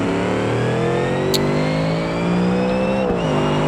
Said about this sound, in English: I love the whine from the sequential transmission.